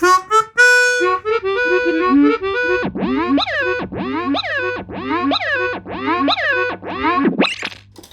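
A delay effect pushed into self-oscillation: repeating swooping, pitch-bending echoes that pile up into a loud, distorted feedback wail over a steady low hum.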